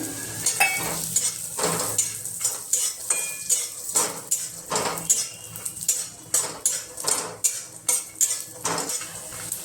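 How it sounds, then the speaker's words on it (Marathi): Peanuts roast in leftover oil in a kadhai, with a steady frying sizzle under repeated metallic scrapes and clinks of a spoon stirring against the pan, close and fairly loud throughout. "त्याच तेलामध्ये आपण हे शेंगदाणे पण भाजून घेणार आहे"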